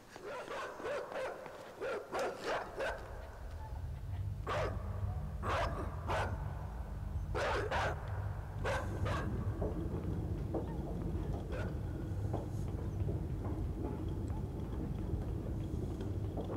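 Dog barks from the side-scrolling game INSIDE, a run of sharp repeated yelps in the first half of the clip over a steady low rumbling backdrop, fading to sparser calls later.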